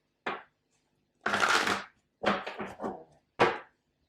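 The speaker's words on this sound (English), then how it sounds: "Do one more shuffle." A tarot card deck being shuffled close by in a quiet room, four short separate bursts of riffling and card handling with silence between them.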